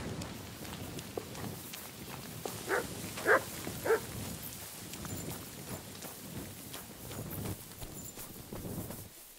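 A dog in the video game Kingdom Come: Deliverance II barks a few times in a short cluster, mixed with steady clip-clopping horse hooves and a soft rainy ambience.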